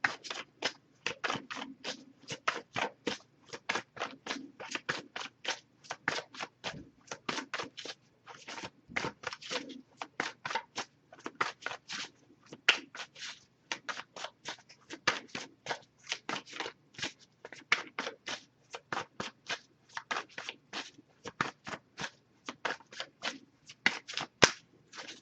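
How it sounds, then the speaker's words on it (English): Oracle cards are shuffled in a long run of quick, crisp riffling bursts, close and steady, with brief pauses between flurries. "If I shuffle for a while without anything coming up, I'll just move on to the next Oracle deck."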